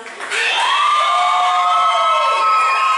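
At an outdoor Pride celebration, a crowd cheers loudly with sustained whoops and high-pitched shouts, filling the air continuously after a round of applause.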